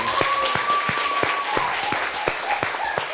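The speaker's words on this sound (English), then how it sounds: "Let's give all of the storytellers a round of applause" Steady applause from a crowd, dense clapping throughout with a faint whistle-like tone in the background.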